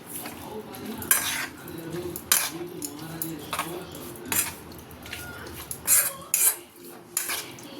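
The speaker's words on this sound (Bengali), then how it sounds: "সর্ষের তেল দিয়ে দিলাম। এবার এটাকে আমি মাখাবো।" Prawns mixed by hand with mustard oil in a bowl, with scraping clinks of a spoon against the dish, soft wet stirring, and several sharper knocks spread irregularly through the clip.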